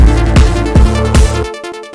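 Drum and bass beat with a melody and open hi-hat, heavy kick and bass hits roughly every half second under sustained melodic tones and bright hats, loud and full, dropping to a thinner tail near the end.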